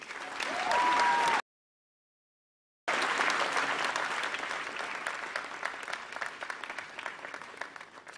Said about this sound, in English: That was a very powerful speech. Let's applaud him once again.